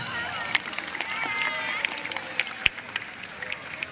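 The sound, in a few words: students applauding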